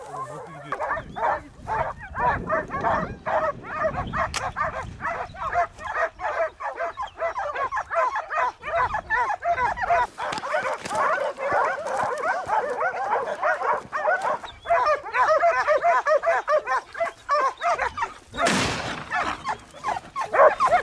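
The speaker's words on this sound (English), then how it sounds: "this massive wild boar still cowered in fear when overwhelmed by the large pack of hunting dogs" A large pack of hunting dogs bays and barks almost continuously at a massive wild boar of over 400 pounds during a boar hunt in Turkey, with dense overlapping barks, yips and whimpers, loud and close throughout.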